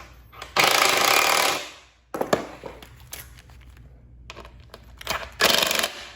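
A power tool tightening 8mm screws on a Fiat 500 Abarth radiator, two loud close bursts of buzzing rattle about a second each, separated by clicks and handling clatter from the workpiece.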